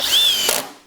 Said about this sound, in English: A lot of people don't realize the tremendous amount of torque it takes to spin and set 3-inch of drywall screw into 3 inches of wood.